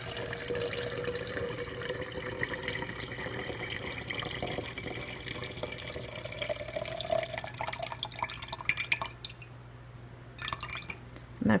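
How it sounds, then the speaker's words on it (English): Steady trickling and dripping of cold brew coffee poured off from a SterlingPro French press, continuous for most of the stretch, thinning out near the end with a few last splashes. "So now I'm just going to pour off the coffee"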